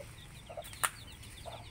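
A farm chicken gives a few soft, short clucks at a distance, with one sharp click in between over a low, steady background.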